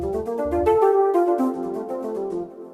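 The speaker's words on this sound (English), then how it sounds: "this is one pad that's called flute pad." A soft synthesized flute pad plays sustained, breathy tones that shift in pitch, smooth and mellow with no voices present.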